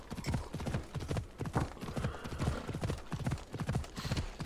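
Hoofbeats of the horse Roach galloping in Assassin's Creed Odyssey, a rapid, regular clip-clop rhythm close and clear throughout, with a faint whinny in the mix.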